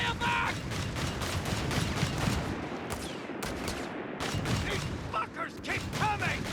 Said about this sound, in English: So you can see those bursts, like it's firing for a very long time before it stops.